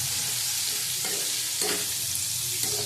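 Green chillies and garlic fry in oil with Kashmiri chilli powder, producing a steady close sizzle broken by a few brief stirring scrapes.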